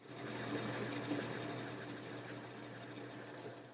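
A countersink bit drilling a cone-shaped recess for a flat-headed stove bolt while building a steel bench vise fixture, a steady whirring drill hum with a faint grinding edge, close and continuous, no speech.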